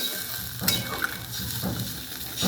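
Potatoes sizzle in hot oil as a little water goes in, giving a hissing sizzle with a few soft clinks of utensils over a short stretch.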